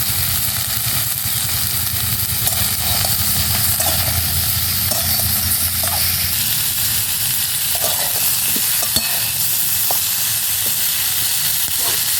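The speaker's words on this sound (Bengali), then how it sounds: "আলু ফুলকপিগুলো লাল লাল করে ভাজা হয়ে গেছে" Potatoes and cauliflower stir-fry in a pan with turmeric and salt, producing a loud, steady hissing sizzle throughout, with occasional light scrapes and clinks of a spatula against the pan.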